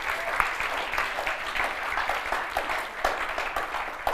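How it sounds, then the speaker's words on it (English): A crowd claps at a kirtan festival during Gaura Purnima celebrations, a loud, sustained wash of applause from many people close by, steady throughout with a few sharper claps. "Just applaud the concept."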